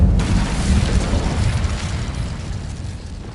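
Incendio fire spell cast in Hogwarts Legacy, a loud, dense burst of fiery whoosh and rumble that holds strong for a few seconds before slowly easing off.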